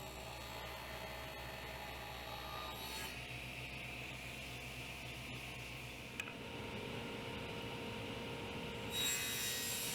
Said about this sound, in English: So I'm making my first cut. I'll do it to all 3 pieces.